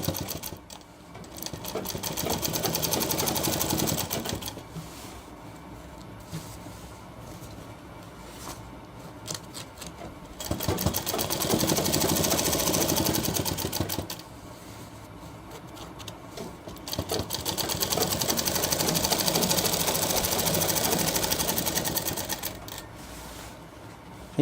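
A sewing machine stitches a shirt seam at the shoulder in three long, close bursts of rapid needle clatter, separated by brief quieter pauses.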